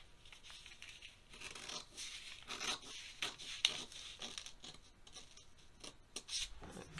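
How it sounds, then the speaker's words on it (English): Scissors snipping into the seam allowance of a sewing pattern: a quick run of close, crisp cuts with paper rustling between them. "now I'm going to pivot, snip into that seam allowance"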